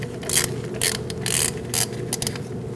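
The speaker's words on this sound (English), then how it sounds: "We're going to remove our speed sensor first using a T30 Torx bit." A ratchet turning a T30 Torx bit to remove the speed sensor bolt on a 2000-2006 Mini Cooper, with several loud, close bursts of rapid clicking separated by short pauses.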